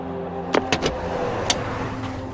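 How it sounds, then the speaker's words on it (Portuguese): A car in a podcast audio drama drives home, its engine a steady low rumble under background music, with a few brief sharp clicks or thumps over the drone. "Tudo que temos é a música de fundo e o que parece ser o carro de Walter finalmente voltando para casa."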